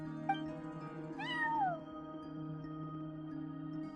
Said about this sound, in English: No one except for a cat watching over the front desk.